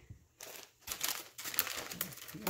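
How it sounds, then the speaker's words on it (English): Soft crinkling of a plastic package of seaweed sheets being opened by hand, quiet and close, in short irregular bursts of rustling. "Open up seaweed."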